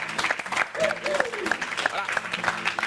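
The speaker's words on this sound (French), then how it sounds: "Applaudissements très forts." Studio audience at a television talk show applauds in a moderate burst of clapping, with voices and chatter mixed in over it.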